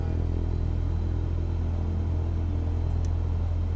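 A Cessna 172S engine in Microsoft Flight Simulator idles at low RPM while the mixture is leaned, giving a steady, even droning rumble that holds constant throughout with no talk over it.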